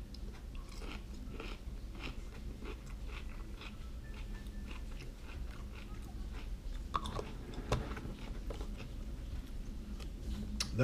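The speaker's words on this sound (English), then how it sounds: "It's crunchy, and I can feel like squeaking when it hits my teeth" Close-up crunchy bites and chewing of fresh, flavored Sno Co pickles, repeated wet crunches with a slight squeak at an irregular pace with no talking.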